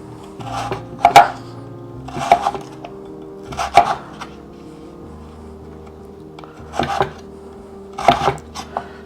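Fresh potatoes being chopped for fries with a knife on a board, five loud separate bursts of quick knocking chops spaced about a second or two apart, close by with no talking.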